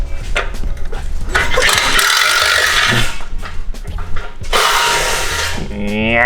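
Impact wrench hammering at a tight bolt on a motorcycle, loud rattling bursts in two long runs with short pauses between, close by in a garage.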